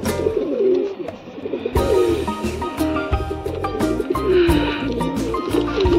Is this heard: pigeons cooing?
yes